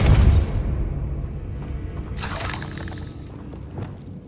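A Convulso spell cast in Hogwarts Legacy: a deep booming thud opens, then a bright, crackling, shattering burst lands midway and decays into a soft rumble.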